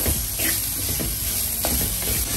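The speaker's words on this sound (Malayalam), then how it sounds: "ആ വെളിച്ചെണ്ണയിൽ കിടന്ന് ഈ ഇൻഗ്രീഡിയൻസ് എല്ലാം നല്ലോണം ഒന്ന് മൂത്ത് വരണം" Ingredients for anchovy thoran fry in coconut oil in a pan, a steady close sizzle with scraping stirs breaking through now and then.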